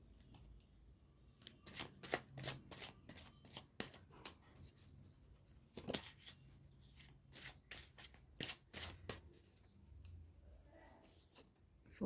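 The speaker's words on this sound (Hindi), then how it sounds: "जब भी मैं कार्ड को शफल कर रही हूँ" Tarot cards being shuffled by hand, with repeated crisp riffling bursts and flicks at irregular intervals, close and fairly quiet, no talking.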